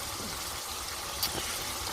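Juice drains from canned pineapple pieces during cooking as a continuous, even liquid rush over two seconds, with no talking.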